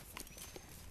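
A horse walking over a bridge gives a few hollow hoof clops, close and quiet, within a brief moment.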